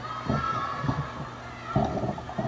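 The crowd at a Stanford at Louisville women's volleyball match rises into excited cheering and shouting after a big block, a short, busy burst of many voices filling the arena.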